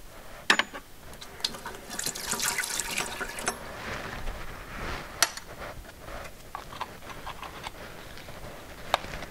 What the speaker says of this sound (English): I'm going to rinse the spoon off between each addition.